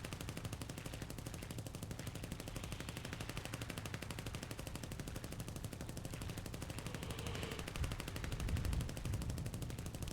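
Continuous rapid .50 caliber machine gun fire in the War Thunder video game, a dense steady rattle that runs without break at moderate loudness.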